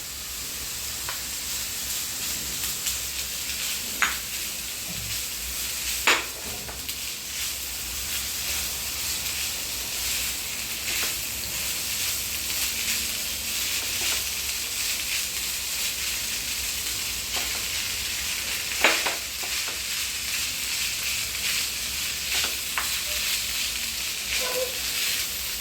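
Cooked rice frying in a pan with carrot and capsicum, a steady close sizzle throughout with occasional scrapes and clinks of a spatula stirring.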